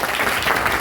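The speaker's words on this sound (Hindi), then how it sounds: "प्लीज उसके लिए तालियां बजाइए सब लोग।" Audience applause at a school Harela festival gathering, a steady broadband wash of many hands clapping at moderate level, brief and continuous with no pauses.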